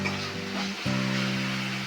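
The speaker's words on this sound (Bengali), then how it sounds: "এবার আমি কাজু আর কিশমিশটা ভেজে নেব" Cashews and raisins frying in a pan give a soft steady sizzle close by, with a low hum underneath and a brief shift partway through.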